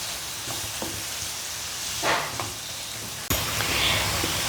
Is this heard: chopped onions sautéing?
yes